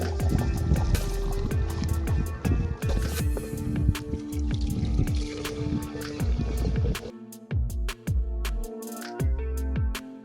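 Fuel poured into a tractor's tank beside a dam bank, a gurgling, sloshing stream with drips and irregular glugs, close and fairly loud, the flow thinning into separate splashes toward the end.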